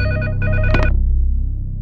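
A telephone bell rings in a short, loud, close burst of rapid metallic trills, cutting off after about a second and fading into quiet.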